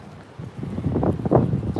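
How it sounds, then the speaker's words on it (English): Wind buffets the microphone in low, rumbling gusts that swell louder toward the end, with no talking, in Fremont, California. "It's nice and windy."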